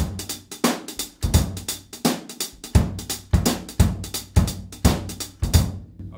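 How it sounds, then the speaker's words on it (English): Close, dry drum kit plays a halftime shuffle groove with a super tight hi-hat. Evenly spaced heavy accents fall under a busy, crisp hi-hat pulse, and no one speaks. "the basic groove, they do this with the hi-hat."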